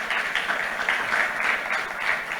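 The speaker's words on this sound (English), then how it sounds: "Please give her a round of applause." Audience applause for a panelist being introduced at a climate finance panel, a steady wash of moderately loud clapping with slight pulsing and no voices.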